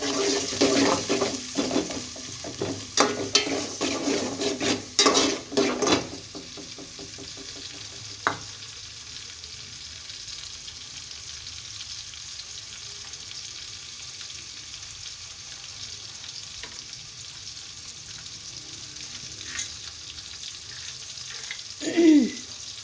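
Onions frying in a pan for matar pulao, with stirring and scraping in the first few seconds, then a quiet steady sizzle, and a brief clatter near the end.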